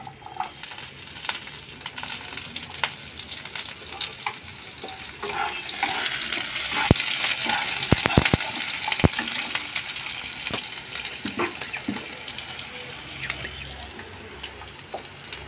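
Onions fry in oil in a wok, giving a close, steady crackling sizzle with scattered sharp clicks and knocks from stirring throughout.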